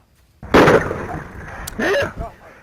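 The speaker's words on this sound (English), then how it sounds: "that was a gunshot fired by the deputy Bob Bates during an arrest" A sharp loud gunshot cracks out during an arrest, fired by a reserve sheriff's deputy, followed by a second burst of noise and brief shouting voices.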